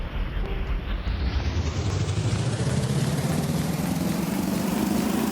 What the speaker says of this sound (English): Has a much meatier sounding engine